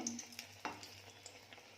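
Malpua batter fries in a pan with a faint, steady sizzle, punctuated by a few soft clicks and taps of a utensil.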